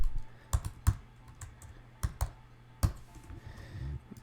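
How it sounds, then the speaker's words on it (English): Light typing on a worn, well-used computer keyboard, a handful of soft clicks in loose irregular bursts, quiet and close with no talking. "I beat up my keyboards, and sometimes the keys don't work."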